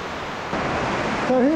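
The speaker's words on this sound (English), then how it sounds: "amazing flowstone under a waterfall." Waterfall pouring over limestone flowstone in a cave, a steady broadband rush of falling water that grows louder partway through, with a faint whistling tone near the end.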